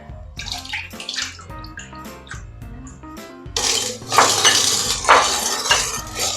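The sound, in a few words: pouring coconut milk into a pot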